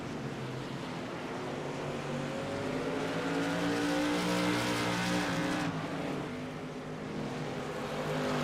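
Modified race cars racing at Concord Speedway in the TRS Tour Modified Series, engines roaring together in a loud continuous drone that swells and shifts in pitch as the pack passes, with no talk.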